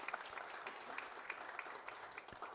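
Guests at a dinner-debate event clap for Ricardo, a soft, continuous patter of applause at a distance with occasional sharper individual claps standing out.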